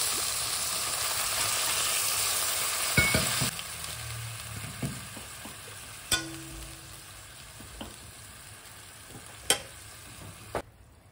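Water is poured onto frying spices in a pan, giving a strong hissing sizzle that dies down after a few seconds into a quieter bubbling, with occasional sharp stirring knocks.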